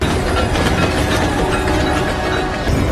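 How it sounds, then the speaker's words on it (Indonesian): A moving train in a film scene set around London, a loud, continuous clattering rumble of rail cars and wheels on track, filling the whole moment with no voices. "Lalu di saat yang tepat, Enola dan Buri melompat dari kereta yang sedang berjalan itu"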